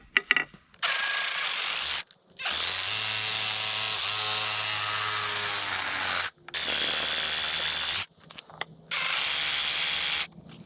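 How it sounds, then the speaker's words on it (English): Power tool cutting the excess wooden handle off the end of a sledgehammer, running in loud sustained bursts of steady whine separated by short pauses, with no talking. "I'm going to cut off the excess on handle here at the end of the hammer."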